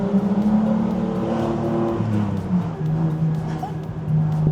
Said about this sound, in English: RB motors already sound good, but there's something about an RB20.